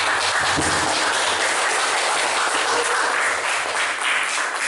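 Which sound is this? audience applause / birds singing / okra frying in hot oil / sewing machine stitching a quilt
audience applause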